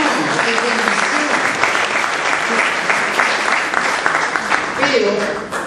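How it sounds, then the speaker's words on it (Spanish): A church congregation claps loudly and continuously, a thick wash of many hands filling the room, with voices and shouts rising through the applause. "Pero un aplauso al Señor, es bendición"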